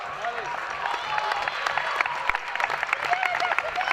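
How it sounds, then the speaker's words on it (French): A crowd at a reserve rugby cup final applauds the Roquefort team, a thick sustained wash of clapping mixed with crowd noise and voices, growing slightly more ragged toward the end. "Allez, on peut applaudir quand même Roquefort."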